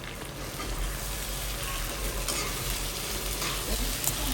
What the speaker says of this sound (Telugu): ఇప్పుడు ఉల్లిపాయలతో మంచిగా మిక్స్ అయిపోయేలాగా మిక్స్ చేసేసుకుందాము